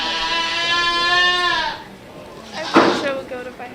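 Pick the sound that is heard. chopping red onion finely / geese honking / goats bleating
goats bleating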